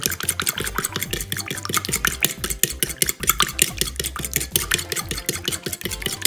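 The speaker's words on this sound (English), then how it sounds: "I'm just going to stir it up" Ramen noodles tossed with seasoning in a pan, producing a steady stream of close scraping, clinking stir sounds with a dense rhythmic texture and no voices.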